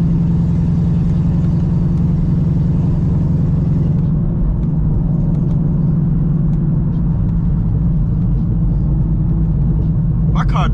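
A tuned C6 Corvette with headers only rumbles loudly from inside the cabin while driving, a deep, steady engine drone that shifts tone partway through, with a voice talking over it.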